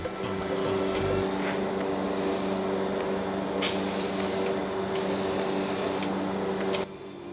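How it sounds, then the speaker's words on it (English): Krylon lacquer sprayed onto a scrap-wood segment art piece comes through as bursts of loud, bright aerosol hiss, near and steady, with a mechanical hum underneath until the spray stops abruptly near the end. "For the finish, we're going with Krylon lacquer."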